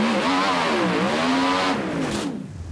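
A Ford Mustang engine revs loudly up close, its tone rising and falling in a sweeping roar for a couple of seconds before it quickly drops away.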